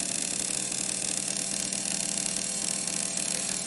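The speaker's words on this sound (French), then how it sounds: "Voilà, donc ce moteur a un petit inconvénient, c'est qu'il ne démarre pas bien." A small electric motor runs in reverse, giving a steady, even whir with a faint vibrating hum, constant in level throughout and without talk.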